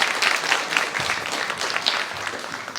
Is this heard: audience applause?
yes